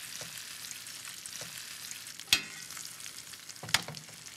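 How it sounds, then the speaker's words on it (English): Cutlets sauté in hot butter in a pan, giving a steady close sizzle with a couple of sharp clicks and pops, no voices. "So now right into the hot pan, add 4 tablespoons of butter. And into the butter, add your cutlets."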